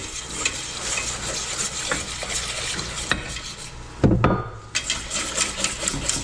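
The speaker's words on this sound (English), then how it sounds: "Whisking vigorously in the beginning to prevent lumps." A whisk scrapes and swirls through a butter and flour roux as cooking liquid is added, steady rapid rubbing and clinking against the pan with a louder splash-like burst partway through, close and continuous.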